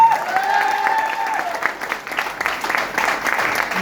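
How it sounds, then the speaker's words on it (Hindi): Audience applause at a motivational closing event in Katni, Madhya Pradesh: a dense, steady burst of many hands clapping over a few seconds, loud and close, with some faint tonal sound mixed in at the start. "अरे 1 करोड़ की ताली तो बजाओ यार।"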